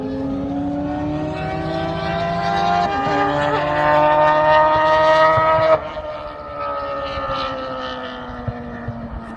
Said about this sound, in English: Some motorbikes.